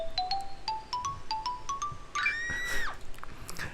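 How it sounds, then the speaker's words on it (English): A Yume Nikki anniversary album track ends with a run of bright, evenly spaced electronic chime notes, then a sudden wavering scream-like cry that bends downward and fades, heard alone without talk. "Like this random scream at the end."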